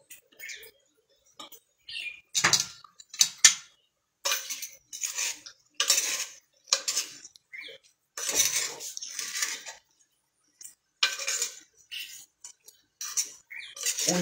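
Undhiyu vegetables being mixed with a spoon in a metal pot, giving close, irregular scraping and clinking strokes in short bursts with brief pauses.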